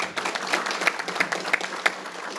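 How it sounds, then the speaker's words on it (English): Audience applauding at a political club's legislative panel event, a dense crowd of claps sustained steadily through the moment with a few sharper individual claps standing out. "Please give him a round of applause."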